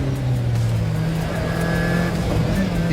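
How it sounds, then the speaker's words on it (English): Group B rally car engine with supercharger and turbo accelerating hard, a loud, steady close-up roar with rising engine tones and some tire noise. "the motor starts out with loads of torque, and then it just carries on going. The supercharger brings it up, and then the turbo takes over"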